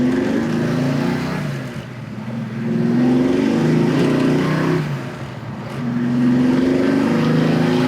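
A 1965 Mustang Fastback with a manual gearbox accelerates hard in first gear, its engine rising in a loud, close rumbling growl, easing off briefly, then pulling strongly again, with no talking.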